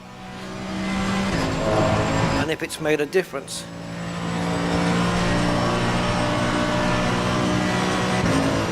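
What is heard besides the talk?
race car engine in Assetto Corsa Competizione video game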